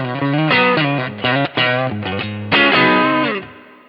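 Electric guitar through a Kemper Drive boosted to about 6.1, giving a thick, saturated distorted tone on a short phrase of sustained notes and bends, loud and close with nothing else playing.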